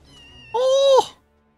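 A single clear cat meow from the video game Final Fantasy VII Rebirth, drawn out and fairly loud, rising then falling off, over a quiet low background hum.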